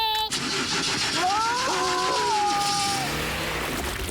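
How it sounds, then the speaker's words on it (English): A cartoon car engine cranks and strains upward in a rising, warbling whine that sputters toward starting, heard close with a voice talking in the background. "Mr. Zyros, give it a bit of gas. OK. Push! Nothing. More gas"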